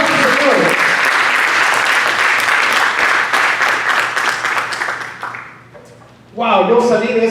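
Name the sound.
church congregation applause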